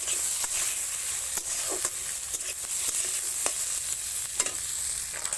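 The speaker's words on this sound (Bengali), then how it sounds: "পেঁয়াজ আর রসুনটা আমি ভালো করে ভেজে নেব" Onion and garlic fry in a pan while fish head and pumpkin vine greens are being cooked, giving a steady close sizzle with repeated scraping stirs of a spatula and no talk.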